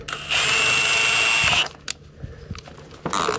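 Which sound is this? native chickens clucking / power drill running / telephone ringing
power drill running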